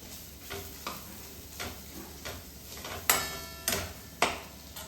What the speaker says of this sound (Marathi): तेला छान तेल सुटेपर्यंत परतून घ्यायचं आहे